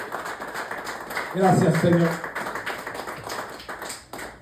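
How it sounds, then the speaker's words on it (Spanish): Congregation applauding during a Spanish-language church service, a burst of clapping that swells briefly in the middle and sits under a speaking voice. "Den un aplauso al Señor en esta mañana."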